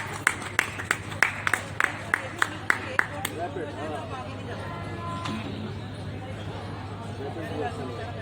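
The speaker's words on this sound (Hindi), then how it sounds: "तालियों से स्वागत।" Audience at a poetry recital on a cultural stage at the Lucknow book fair claps in a short burst of sharp, distinct hand claps, then fades into murmuring room noise.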